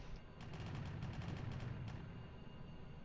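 Grenade launchers on a fighter craft in Kerbal Space Program fire in a rapid burst of sharp reports over a steady, heavy engine roar, the shots fading out after about two seconds.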